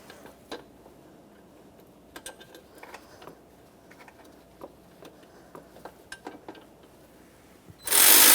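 A hand ratchet clicks in short bursts while snugging the intake manifold bolts on a 2007-2017 Jeep Patriot 2.4L four-cylinder, quiet and close with pauses between strokes, ending in a louder burst of noise.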